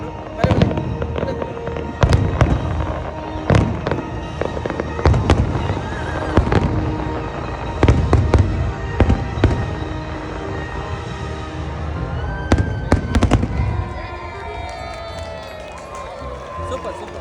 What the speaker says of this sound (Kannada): ದುಬೈದ ಫೈರ್ ವರ್ಕ್ಸ್